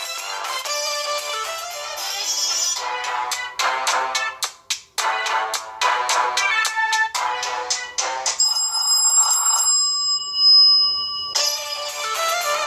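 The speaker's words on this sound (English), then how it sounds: "now here we're going to test the loudspeaker on this phone." A ringtone melody plays from the loudspeaker of a Siswoo Cooper R8 smartphone, a loud, bright sequence of repeated tonal notes, then sustained beeping tones, then the melody again, heard alone without talk.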